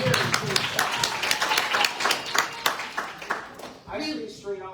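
An audience clapping at a public meeting, a brief burst of applause with voices talking over it before the clapping fades away.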